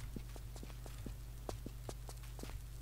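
Footsteps in Tomb Raider IV: The Last Revelation sound as a steady run of sharp, evenly spaced clacks at a brisk pace, clear over a constant low game hum.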